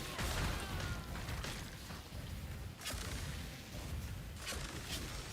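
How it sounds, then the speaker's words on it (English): Corpse explosion in the action RPG Grim Dawn, a dense, loud burst of booming blasts and crackling pops that repeats in waves over a continuous rumble of game noise. "Not when we hear the corpse explosion sound,"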